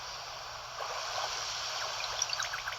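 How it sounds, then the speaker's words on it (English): Fast-flowing river water in Paper Mario: The Origami King rushes as a faint, steady hiss with light burbling splashes, no voices present. "The river is flowing a bit fast."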